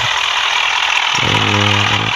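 A tractor engine runs loud and close with a steady idling drone, its pitch settling into a deeper rumble partway through.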